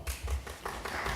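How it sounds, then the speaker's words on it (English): A short, scattered round of hand clapping at a city planning board meeting in Paterson, New Jersey, with a few distinct claps and then a thin patter, fairly quiet. "Let's give them a round of applause as well."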